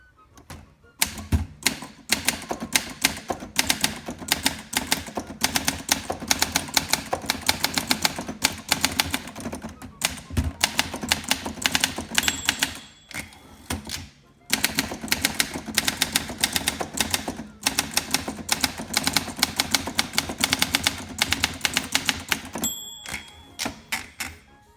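Close, steady typing on a 1956 Olympia SM3 manual typewriter fitted with a new platen, with dense runs of crisp key clacks, a few brief pauses, and bell dings with carriage returns along the way.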